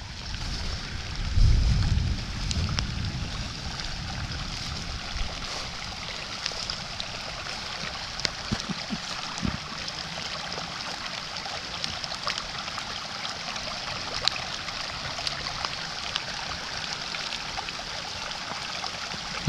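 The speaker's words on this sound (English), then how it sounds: "You can hear the sounds of the rushing water." Rushing water during a storm with light rain, a steady broad hiss of flowing water heard throughout, with a louder low rumble early on and scattered small knocks.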